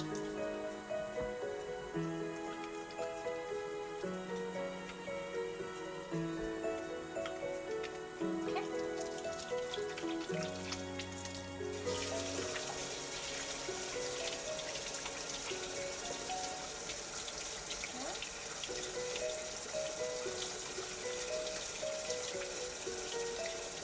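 A kitchen tap runs steadily into a sink during handwashing, a continuous gush heard beneath loud background music.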